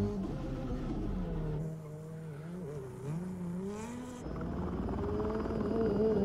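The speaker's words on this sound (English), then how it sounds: "Is Travis Pastrana the first person to do tandem donuts with a helicopter?" Rally car spinning tight tandem donuts alongside a low-hovering helicopter at a Gymkhana 2022 stunt shoot, a steady droning engine and rotor roar with wavering pitch, loud and continuous throughout.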